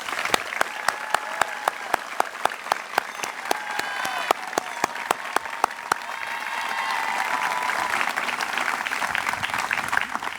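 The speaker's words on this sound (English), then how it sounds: "Please join me in giving Brandon, Audrey, Emma, Dayon, and Andrew a big round of applause." A commencement audience applauds student speakers at a school graduation, with steady crowd clapping throughout, punctuated by sharper, evenly spaced claps standing out from the wash.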